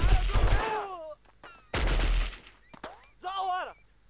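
Bursts of gunfire from the Delta Force video game on the Chad mission Exodus, a few sharp volleys separated by brief pauses, with a voice talking in between.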